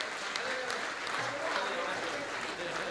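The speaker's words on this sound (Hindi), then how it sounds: "दोनों हाथ ऊपर उठाकर उसको आशीष की तालियां दीजिए" Audience clapping in blessing for a young singer at a live ghazal and song concert, steady applause filling the whole stretch at moderate loudness.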